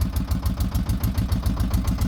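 A motorboat engine chugs steadily in a fast, even pulsing rhythm on the Sharavati river backwaters at Honnavar, close and loud with no talk.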